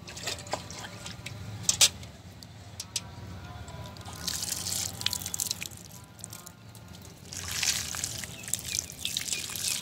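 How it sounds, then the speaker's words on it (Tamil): Water poured into a freshly repotted philodendron, giving a soft dripping, trickling patter against soil and pot, with a steadier run of liquid in two brief bursts; close and fairly quiet. "இப்போ நம்ம தண்ணி ஊற்றிடலாம்."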